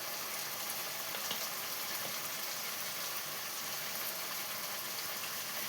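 Chili powder tipped into a pan of sizzling tomato masala, a steady, even frying hiss with bubbling that runs unbroken throughout and has no talking over it.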